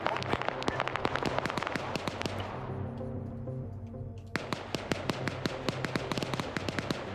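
Rapid bursts of explosions in a military video game, a dense crackling barrage of sharp blasts with a short lull in the middle before the volleys resume, loud and continuous.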